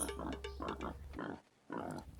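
Pigs on a sustainable hog farm in the Philippines give close, rapid grunting oinks in quick bursts, fall briefly quiet, then start up again.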